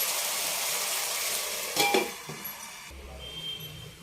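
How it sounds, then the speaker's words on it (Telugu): A metal lid set onto a cooking pot of simmering tomato gravy for potato kurma turned down to low heat, with a brief clatter and clink after steady hissing, then a quieter settled simmer. "సిమ్లో పెట్టి మూత పెడదాం."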